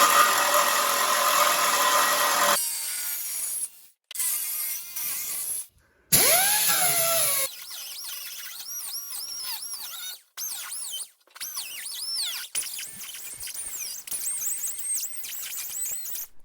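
Power tool cutting mounting tabs off a Jeep Gladiator JT rear bumper on a Jeep Comanche rebuild, loud close bursts of whining and grinding with rising and falling pitch, broken by short pauses.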